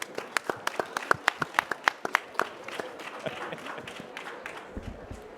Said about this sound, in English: if you could give yourselves and our panelists a big round of applause